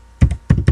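Keys pressed on a computer keyboard while a mobile number is entered on a ticket booking site: three or four close, punchy key thunks in quick succession, loud and near, with no voices.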